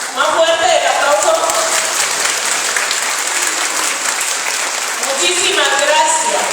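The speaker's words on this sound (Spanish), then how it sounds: "Más fuerte el aplauso." An audience at an Afro-Latin American women's gathering in Livingston, Guatemala claps loudly and continuously, a thick wash of applause with a voice speaking over it at the start and again near the end.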